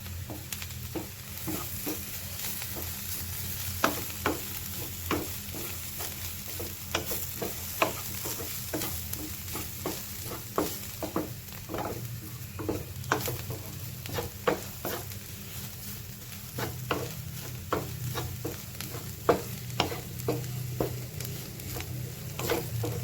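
Kerala-style chicken curry with pepper powder is stirred in a pan, a soft steady sizzle under repeated spoon scrapes and taps that come in an irregular rhythm, quiet and close.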